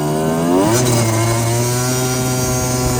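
A 1988 Yamaha DT50LC two-stroke motorcycle engine buzzes loudly and close, its pitch dropping sharply as it downshifts, then settling into a steady raspy drone on a summer night ride.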